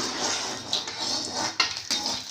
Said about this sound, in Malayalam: ഞാൻ മുന്തിരി ഇളക്കുവാണ്